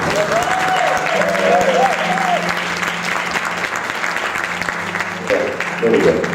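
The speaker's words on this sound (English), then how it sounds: "give Pastor Hodo a hand clap of praise" Church congregation giving their pastor a sustained round of applause, dense clapping and cheers filling the room, with voices and a few shouts mixed in throughout.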